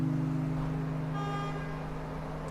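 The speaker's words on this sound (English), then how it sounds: "Honk honk." A car horn sounds in the video game Void of Desire, a single sustained tonal honk held for a couple of seconds over a low engine hum, with no speech.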